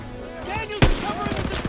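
Gunfire in the Call of Duty WW2 PC game on the Death Factory level, with a sharp loud shot cracking near the middle amid rattling bursts and background combat noise.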